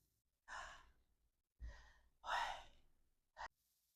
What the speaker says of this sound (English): When you take a breath.